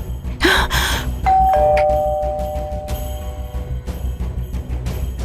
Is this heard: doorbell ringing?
yes